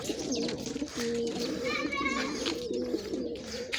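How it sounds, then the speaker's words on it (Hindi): Pigeons sitting in the sun beside a village canal, giving soft, repeated throaty coos in a steady rolling rhythm, close and clear over faint outdoor ambience. "ये वो कबूतर है"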